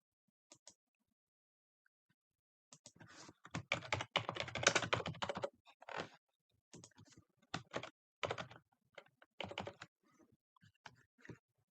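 Typing creditor details into accounting software on a computer keyboard: a brief tap, then a dense burst of rapid keystrokes, then scattered separate key presses and short runs, close and moderately quiet with no talk.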